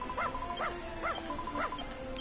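A dog in the Dragon Quest Builders video game gives four short, tonal yelping barks at a steady, even pace over a constant hum of game music.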